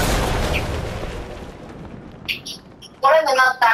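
A Fortnite bomb goes off with a loud booming blast that rumbles away over a couple of seconds. A voice then starts talking over the game sounds.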